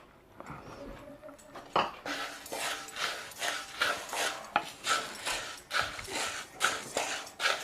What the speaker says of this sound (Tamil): இப்போது நம்ம இந்த 1 கப்பு உளுத்தம்பருப்பை வறுத்துக்கலாம்.